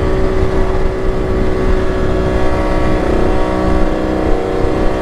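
A Kawasaki KH500 H1 triple two-stroke motorcycle accelerating in fifth gear, its engine holding a loud, steady, close-up drone with a rising tone and no pauses.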